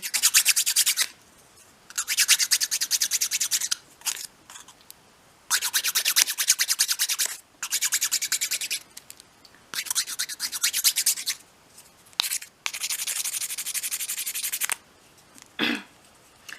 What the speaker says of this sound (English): So that's all you would do to sand your edges and make them more, you know, a cleaner edge.